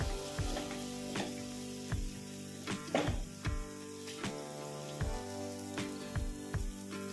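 Ground cumin, pepper and garlic sizzle steadily in hot oil for a Tamil dal sambar, with repeated scraping stirs breaking through the close, continuous frying hiss.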